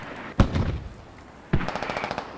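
Explosions and gunfire in the military shooter game Squad, with mortar rounds landing around a position: two sharp blasts each followed by a rattling burst of fire, then a third hit at the end, fairly close.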